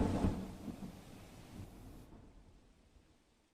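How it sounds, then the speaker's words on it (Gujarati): A loud thunderclap rumbles at the start of a heavy unseasonal rainstorm in Ahmedabad, Gujarat. The crash fades gradually into a softer hiss of falling rain, with no voices. "અમદાવાદની અંદર લગભગ મોટાભાગના વિસ્તારમાં આ રીતનો વરસાદ સતત વરસી રહ્યો છે અને આપ જોઈ રહ્યા છો વીજળીના કડાકા"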